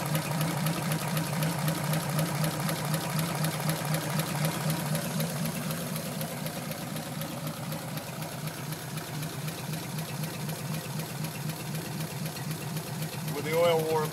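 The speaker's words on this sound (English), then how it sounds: "And you can hear the valve noise pretty good on the video." A flathead engine idles steadily with a regular mechanical valve clatter and low rumble throughout, close and fairly loud, with a brief rev-like sweep near the end.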